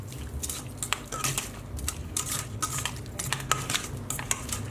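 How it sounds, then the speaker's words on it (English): A spoon mixes Moroccan carrot salad with lemon juice and olive oil in a bowl, repeated light clinks and scrapes of utensil on dish with soft wet squishing, close and busy. "So let's give this a good mix together,"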